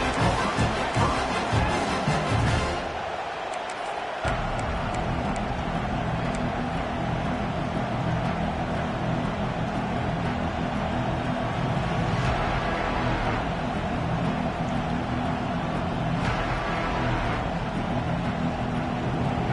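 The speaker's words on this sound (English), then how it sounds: "This crowd ready to make its presence known." Stadium crowd at a Michigan vs Oklahoma college football game, a loud continuous roar of many voices that stays steady throughout, dipping only briefly early on.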